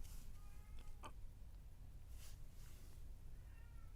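A pet cat named Obi meows angrily several times, faint and somewhat distant, with short strained cries spread across a quiet room background.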